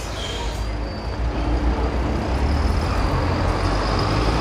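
An articulated bus pulls away on a city street in Siegen, its steady low engine rumble filling the scene, close and loud, over broadband traffic noise.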